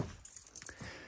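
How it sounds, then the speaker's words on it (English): A bunch of keys for a rat rod, heard as a brief, faint metallic jingle with a few light clinks in a quiet setting. "I have the keys."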